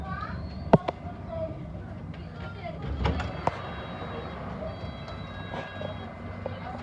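London Underground Hammersmith & City line train running toward Hammersmith, a steady rumble of the carriage in motion with sharp clicks and clunks from the track and an automated announcement voice over the noise.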